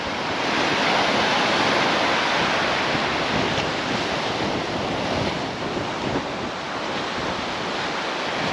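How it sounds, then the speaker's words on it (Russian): Sea waves break on a rocky, shallow winter shore in Crimea, a loud continuous wash of surf with wind buffeting the microphone, the roar swelling and easing slightly. "Вот здесь волна большая, потому что мелко"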